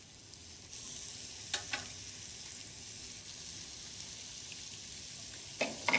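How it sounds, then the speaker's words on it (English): Oiled beef burgers frying in a pan, a soft, even sizzle starting abruptly and holding steady, with a couple of brief clinks of a fish slice against the pan. "I'm going to actually put the oil on the beef burgers. This way, the burgers won't stick and the oil won't burn."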